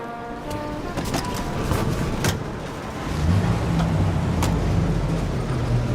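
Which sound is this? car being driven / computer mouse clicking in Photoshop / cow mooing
car being driven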